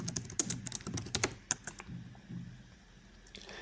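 Quick bursts of keystrokes on a computer keyboard come up close as a support message is entered, clustered clicks in the first half, then a quieter pause before a final tap.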